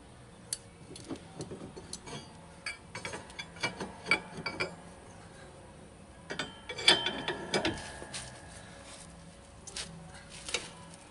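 Pipe wrenches working on a trailer hitch rusted into its receiver give irregular metallic clicks, ratcheting knocks and scrapes, quiet and close, in scattered bursts with a busier cluster near the middle.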